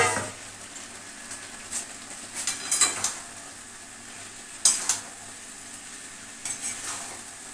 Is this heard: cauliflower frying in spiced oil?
yes